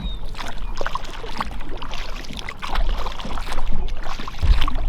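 A kayak paddles across a calm lake in the morning, with repeated soft splashes and water swishes from the strokes, close by and continuous, mixed with light wind.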